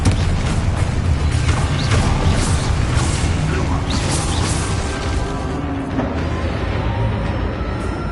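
The Confringo explosive spell is cast in the Hogwarts Legacy video game, giving loud, booming blasts and crashing debris with whooshing and mechanical rumble continuing throughout.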